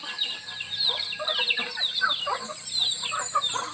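Native chickens on a provincial farm clucking and calling continuously at close range, many overlapping bird voices with no talk.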